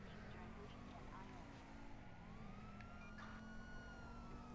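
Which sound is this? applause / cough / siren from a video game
siren from a video game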